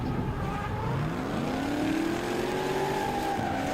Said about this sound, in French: on entend le bruit des V8 qui travaillent, deux V8 compresseurs